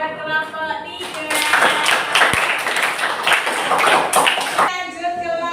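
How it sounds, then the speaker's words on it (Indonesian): Applause from a classroom of students for a presenting group, a dense burst of clapping that rises quickly and holds for about three seconds before cutting off, with children's voices talking faintly before and after. "beri tepuk tangan buat kelompok 3."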